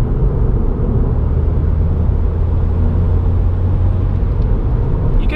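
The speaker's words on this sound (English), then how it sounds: "You can hear the turbo pretty good in this car too." A 2018 Subaru WRX drives along in traffic, its turbo engine giving a steady low rumble and road roar from inside the cabin, fairly loud and continuous without talk.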